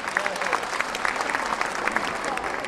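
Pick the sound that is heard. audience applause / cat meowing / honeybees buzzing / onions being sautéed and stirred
audience applause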